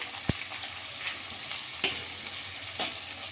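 Sliced onions fry in hot oil in a pan for a small local chicken dish, a steady crackling sizzle broken by a few sharp stirring knocks.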